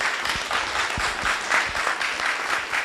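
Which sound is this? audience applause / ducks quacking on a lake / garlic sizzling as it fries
audience applause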